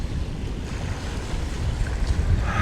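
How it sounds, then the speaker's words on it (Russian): Strong wind gusts by the sea, where kitesurfers race on the water; a steady roaring rush of wind buffets the microphone with surf beneath, loud and close, with no talking. "Но ветер конкретный ветер."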